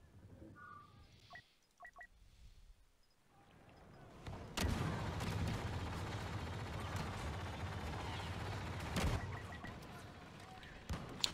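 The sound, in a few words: gunfire in the video game Star Wars Battlefront II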